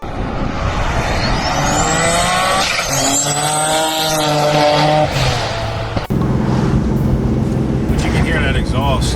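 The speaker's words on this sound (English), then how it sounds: "you can hear that exhaust leak pretty bad" A turbocharged 700hp Infiniti G35 with an exhaust leak revs loudly up close, its rising and falling engine note carrying a raspy leak sound, then settling into a rougher steady drone after a sharp break.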